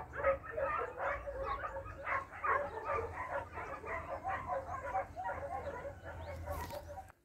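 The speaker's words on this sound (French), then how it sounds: "Et vous pouvez entendre la douce mélodie des chiens." Several dogs bark and yelp continuously near a bivouac campsite on the GR 65 pilgrimage trail, a busy overlapping chorus at moderate distance over a low rumbling background, with no talking.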